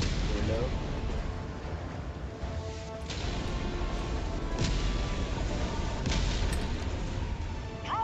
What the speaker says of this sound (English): Are you suggesting we go out in the middle of a barrage?